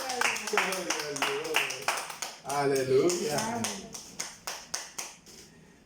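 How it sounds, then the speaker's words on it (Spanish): A church congregation at a family worship service claps in a steady, fairly quick rhythm of sharp hand claps, close and lively, while voices call out and talk over the clapping. "Den un aplauso fuerte al Señor."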